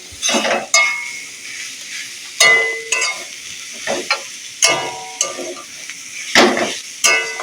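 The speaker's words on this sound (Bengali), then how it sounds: "ভাজা হয়ে হয়ে আসছে আর কিছুক্ষণের মধ্যেই শাকটা ভাজা হয়ে যাবে" Drumstick leaves fried with grated coconut crackle in a pan as a spatula stirs them in loud, repeated scraping strokes roughly every second, close by and with no talking.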